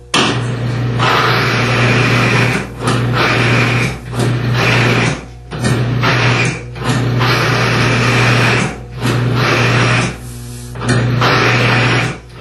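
Bearing friction test machine running with a penetrating lubricant, a loud steady mechanical whine and grinding broken by repeated short pauses, starting and stopping about every second or two.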